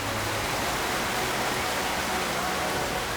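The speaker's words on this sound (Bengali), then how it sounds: "সুতার বাজারের ব্যস্ততা ঘুরে দেখার আগেই পথ আটকায় বৃষ্টি।" Steady, loud broadband rain pours down continuously near a busy thread market in Narsingdi, an even hiss with low rumbling undertones and no pauses.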